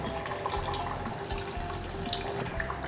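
Hot water pours steadily into rice in a pot, cooked in the style of a Padang restaurant, a soft continuous trickle and splash close by with no talking.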